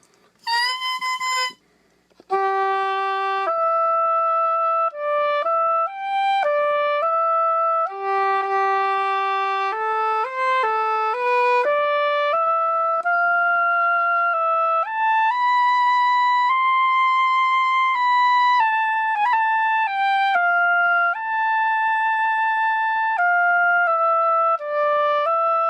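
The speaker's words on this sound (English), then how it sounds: "That is a nice sounding reed. It plays well." A hand-scraped double reed is played, sounding a sustained, clear and reedy run of held notes that step up and down in pitch, close and steady, after a short squawk at the start.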